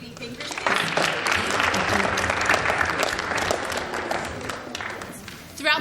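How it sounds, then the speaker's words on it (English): Audience applause fills a school Shark Tank event for a competing student team, steady dense clapping from a crowd that holds throughout and swells briefly at the end. "one last round of applause for the 3D thinkers"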